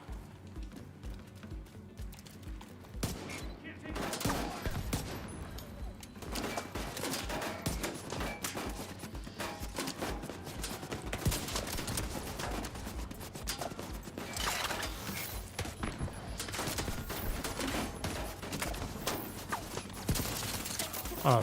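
Video game gunfire in The Division 2: sustained bursts of rapid automatic shots and crackling impacts layered over mechanical clatter, continuous and fairly dense throughout, with no talking.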